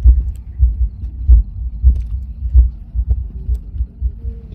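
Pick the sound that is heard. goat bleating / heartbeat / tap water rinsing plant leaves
heartbeat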